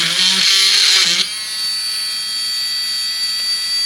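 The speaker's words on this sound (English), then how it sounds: "Drill a little hole in there, which is perfect." A small drill boring little holes in resin pieces whirs with a high, buzzing whine for about a second, then drops to a steadier, quieter hum that continues to the end.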